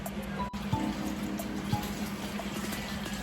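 A pump hums steadily while it pumps water into an axolotl tank, with a soft continuous trickle and a few small drips over a low motor drone.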